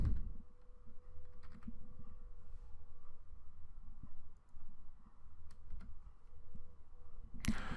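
Fingers type an open square bracket and a variable name on a computer keyboard in light, irregular clicks, close and fairly quiet over a low room hum, with no one speaking.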